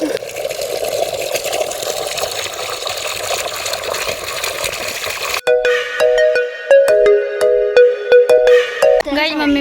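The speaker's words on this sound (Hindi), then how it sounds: "और पानी भर रही हूँ अब।" Water gushes into a tub as a steady, rushing stream for about five seconds, then stops abruptly and is replaced by bright, tonal music.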